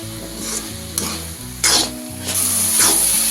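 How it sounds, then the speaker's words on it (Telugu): Carrot halwa stirred and fried in a pan, a spoon scraping through the thickening mixture in repeated strokes over a steady close sizzle, with no talking. "ఇలా కలుపుతూ ఫ్రై చేసుకోవాలండి చక్కగా"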